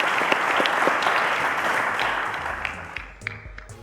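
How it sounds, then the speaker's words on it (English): Studio audience applause on a televised quiz show, dense clapping that fades out as music begins underneath. "A round of applause to Edo"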